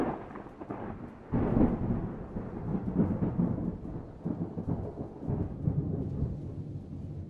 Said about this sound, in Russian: Гром.